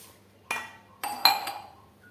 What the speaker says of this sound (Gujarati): હવે મેં પાત્રાને સ્ટીમ કરવા માટે સ્ટીલના ગ્લાસ લીધા છે।